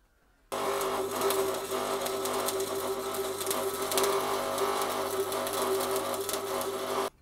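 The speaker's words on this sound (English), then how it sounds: "Let's weld that in there and then that'll form our brace." Steel bracket brace being arc welded while building a fold-away swivel table for a campervan; a steady, loud buzzing crackle starts abruptly and runs continuously for about six and a half seconds before cutting off.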